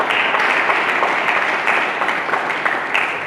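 Enthusiastic applause from a church congregation fills the room, a dense steady clapping that holds for several seconds with no talk over it.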